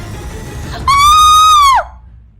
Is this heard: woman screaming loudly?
yes